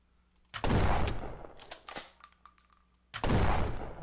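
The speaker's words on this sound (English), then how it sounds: "Why are you shooting me?" Gunfire aimed at the player in a modded Minecraft world, two loud close bursts of shots separated by a short gap filled with smaller clicks and impacts.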